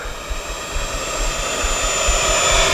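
A Freewing F-86 80mm electric ducted-fan RC jet makes a low pass with its gear and flaps down, its loud whining turbine rush swelling steadily as it approaches.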